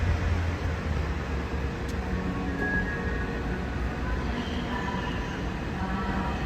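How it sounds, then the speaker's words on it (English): A Metrorail train approaches an elevated station near Miami airport, a steady low rumble and broadband roar with faint squeals, moderately distant and continuous. "Up above we see the sci-fi design of the Metrorail station, and there's a train coming."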